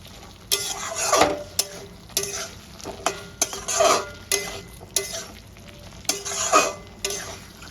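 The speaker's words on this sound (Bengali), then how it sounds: "ভেজে রাখা আলুটা আর ডিমটা দিয়ে দেবো, দিয়ে মশলাটার সঙ্গে সামান্য কষিয়ে" Fried potato and boiled egg stir-fried in a pan with poppy seed masala: a low continuous sizzle broken by repeated loud spatula scrapes and clatters at an irregular rhythm, close up and without talk.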